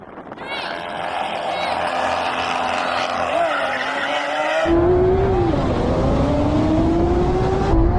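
Lamborghini Aventadors in a drag race roar at full throttle, their engine note rising in pitch as they accelerate, then a louder wash of noise sweeps in as the cars pass close by.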